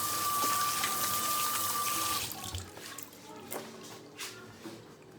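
Water runs steadily from a tap over hands being washed in a kitchen sink before cooking fried rice, a loud continuous splash for about two seconds, then quieter drips and splashes as the flow stops.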